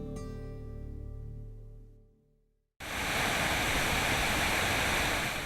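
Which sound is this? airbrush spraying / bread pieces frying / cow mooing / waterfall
waterfall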